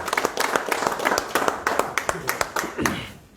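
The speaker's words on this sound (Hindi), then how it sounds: "तालियों के साथ इस्तकबाल करें" Scattered clapping at a political party joining event, a loose irregular run of individual hand claps from a small gathering, with voices talking over it before it thins out.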